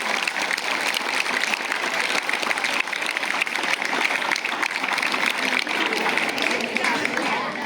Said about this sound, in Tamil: பலத்த கைத்தட்டல் கொடுக்கலாம்.